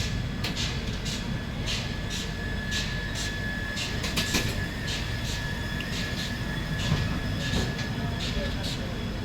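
An opposing train passing alongside on a crossing near Yoga Nagari Rishikesh, heard from aboard the Doon Express, a steady rumbling roar with repeated clicking wheel beats and occasional squeal, with someone speaking over it.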